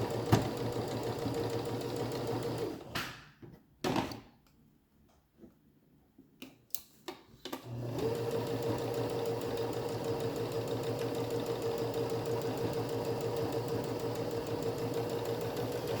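Sewing machine straight-stitching pajama bottoms, a fast steady mechanical whir that pauses for a few seconds with clicks and handling sounds, then resumes running continuously, close with no talking.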